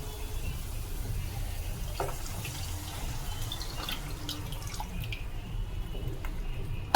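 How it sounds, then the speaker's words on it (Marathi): Cleaned clams (kalva) tipped into a pan with their own liquid for a Malvani recipe give a steady wet, dripping wash with a few soft clicks and splashes throughout, with no one speaking. "तर आता आपण ह्याच्यामध्ये कालवा घालणार आहोत."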